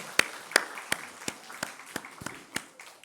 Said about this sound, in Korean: 크게 박수로 맞이하겠습니다.